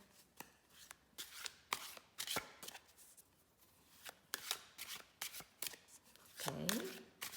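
Tarot cards shuffled over and over in quick riffling bursts, close and crisp, with brief pauses between.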